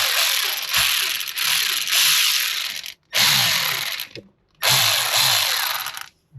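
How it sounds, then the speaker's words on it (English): A Milwaukee M12 electric ratchet from a motorcycle mechanic's toolbox whirs in three loud, close bursts of about one to one and a half seconds each, separated by short silent gaps. "Here's my ratchet, electric ratchet."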